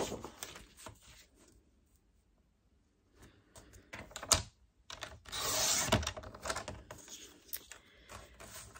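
Paper for a handmade advent calendar is cut into a square with scissors, giving short crisp snips and rustles in irregular bursts, close and fairly quiet, separated by near-silent pauses.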